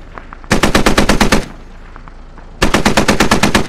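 Video game Squad gunfire: two long bursts of rapid automatic fire, loud and close, separated by a short quiet gap with faint distant sounds.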